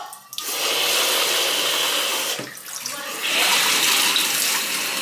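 Water gushes loudly and steadily from a second-floor sink tap, with a short dip partway through before the flow surges again, close by and alone.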